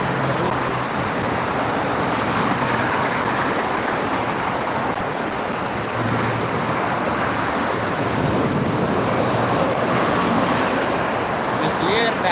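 A truck rumbles along a busy toll road toward Jakarta at night, heard as a steady loud roar of traffic and wind noise that continues without a break, with a low engine hum underneath.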